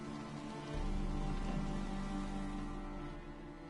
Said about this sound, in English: even though it's kind of rainy, it's miserable